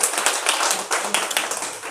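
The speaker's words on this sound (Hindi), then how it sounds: "एक बार जोरदार तालियां सीपी भैया के लिए।" An audience at a gathering claps together in a short burst of applause, the claps crisp and close, with a voice mixed in beneath.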